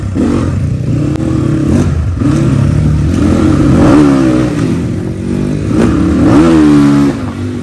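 Motorbike riding on an open road, the engine droning loud and steady with rising and falling revs and a rattling clatter throughout, no talk over it.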